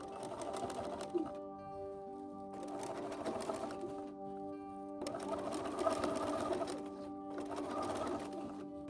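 A sewing machine bastes along the top edge of scalloped trim on a Renaissance-style dress, running in several bursts separated by short pauses, with soft cooing bird sounds mixed into the room background.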